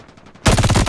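Call of Duty gunfire plays on a tablet: a faint burst of rapid shots, then a much louder, close automatic burst of evenly spaced rounds fills the rest of the second.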